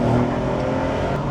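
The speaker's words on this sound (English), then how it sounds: "Yes, it accelerates quite nicely." A 2024 Porsche 911 Carrera S Cabriolet accelerating, its engine a loud, steady, close drone with no talk over it.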